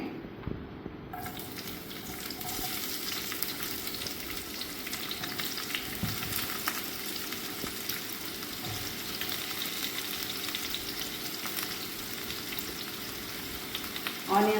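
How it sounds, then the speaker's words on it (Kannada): Chopped onion fries gently in ghee and coconut oil for a chicken curry, a soft, even sizzle running throughout with a few faint stirring scrapes and no voices. "ಈಗ ಇದು ಆನಿಯನ್ ಸ್ವಲ್ಪ ಫ್ರೈ ಆಯಿತು"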